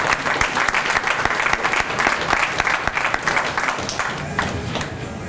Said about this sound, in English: And let's have a round of applause for all the employees of the city of Cleveland.